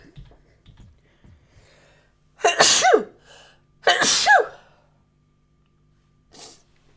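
Two sharp, loud sneezes about a second and a half apart, followed by a faint third burst, with quiet breathing and rustling around them.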